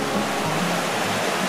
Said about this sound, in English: pretty set of waterfalls through a pretty nice little section of canyon